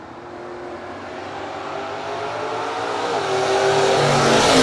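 Drag racing cars launching at a no-box open meet, among them a Gremlin, the engine roar climbing steadily in pitch and loudness as the cars pull away, close and loud with no talk.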